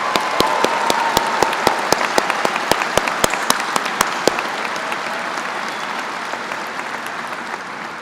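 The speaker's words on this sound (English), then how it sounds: "If we could please give all of the women and mothers in the room a round of applause" An audience at a University of Dayton commencement applauds the women and mothers in the room, a steady roar of many hands with sharp individual claps that gradually thins and softens.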